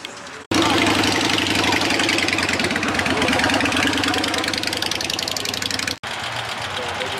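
A 750 motorcycle engine at a motorcycle meetup in Bogotá rumbles loud and close with a steady, pulsing beat that rises sharply and holds, then cuts away abruptly near the end, with voices talking around it.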